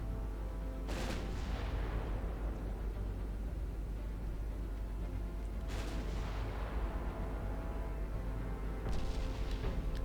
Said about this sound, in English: Let's get some rounds on target on the second one.